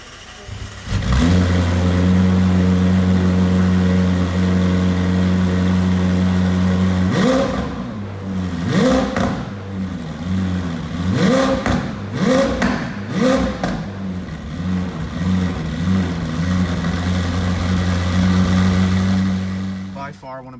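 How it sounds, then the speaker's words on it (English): A 2019 McLaren Senna's 789-horsepower twin-turbocharged V8 fires up with a loud bark and settles into a deep, close idle, then is blipped through a series of sharp revs before easing back to a steady rumble. "you press this button on the roof, and that's how you activate the 789 horsepower twin turbocharged V8 in the McLaren Senna"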